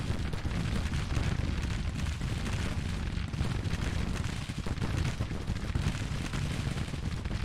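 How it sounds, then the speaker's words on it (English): Massed gunfire from Henry repeating rifles in a Civil War strategy game battle, a continuous, dense rumble of overlapping shots and booms that holds steadily loud throughout. "Hey, the Henrys are... I saw them shoot a volley."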